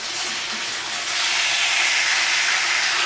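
Pork chops sizzle loudly in a hot pan as they are flipped, a dense, close, continuous crackling hiss that swells slightly partway through.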